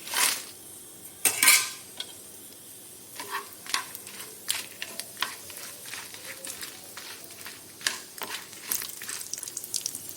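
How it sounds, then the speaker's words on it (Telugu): Dried red chillies fry in oil as a metal spoon stirs and scrapes the pan, giving sharp clinks and taps over a soft, steady sizzle, close and moderately loud with quiet pauses between strokes. "నూనె వేసినాం కదా. ఇప్పుడు దీంట్లో ఎండుమిర్చి వేసేసుకుందాం."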